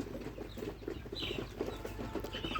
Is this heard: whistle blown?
no